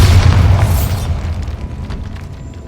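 Bombarda spell blasting a stack of bones in the Hogwarts Legacy video game, a single loud, deep boom that rolls out and fades over a couple of seconds, with no talk over it.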